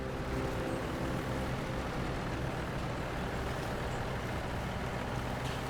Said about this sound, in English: this truck, man, you know, like, it has something to fight against right now